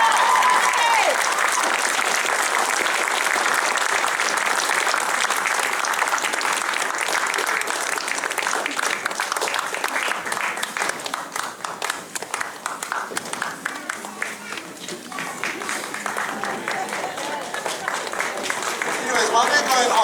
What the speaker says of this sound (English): Give it a round of applause again.